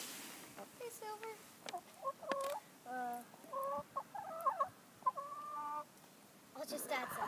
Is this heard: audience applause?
no